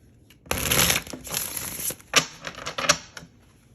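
A deck of tarot-style reading cards is shuffled in quick bursts, crisp papery riffles and sharp snaps close up, pausing briefly between rounds with no talking.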